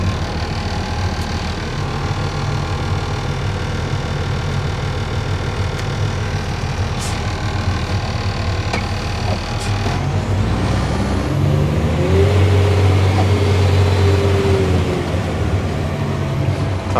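A tractor engine pulls hard in second gear, throttle floored, climbing a steep hill, a loud steady diesel drone with rattling and a rising, strained note toward the end.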